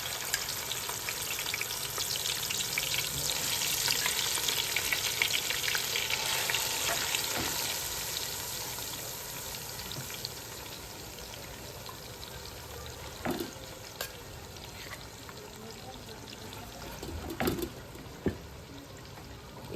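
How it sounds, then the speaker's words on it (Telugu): Chicken pieces fry in hot oil for a masala chicken biryani, giving a loud, steady sizzle that fades a little over time. A few sharp clicks and scrapes from stirring cut through the sizzle, and no one speaks. "ఫ్రెండ్స్, ఇప్పుడైతే నూనె అయితే వేడైపోయింది. ఇప్పుడైతే నేను చికెన్ వేసేసుకున్నాను ఇందులో."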